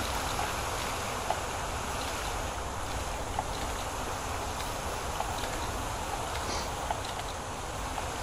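Steady flowing water in the video game Grow Home makes a continuous, even rushing wash, fairly loud and unbroken, with no talk over it.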